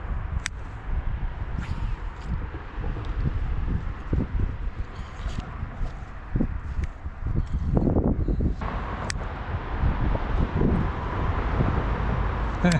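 Gusty wind blows across a microphone at a fishing spot, producing low rumbling buffets and rustling that rise and fall irregularly, with occasional sharp knocks, fairly loud and close throughout.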